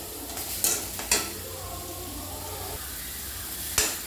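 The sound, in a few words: bitter gourd frying and stirring in an iron pan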